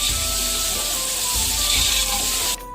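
Spiced masala with four medium tomatoes fries in a pan for beef yakhni pulao, giving a loud, steady sizzling hiss that cuts off sharply just before the end.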